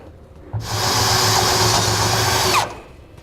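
A power drill whirs steadily for about two seconds, loud and close, starting and stopping abruptly with a high grinding edge as it bites metal, enlarging a hole for a gooseneck trailer hitch on a 2014 Toyota Tundra.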